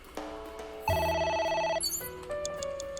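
A telephone rings in the video game AI: The Somnium Files, a loud electronic bell tone sounding in repeated bursts with a chime partway through, and no voices over it.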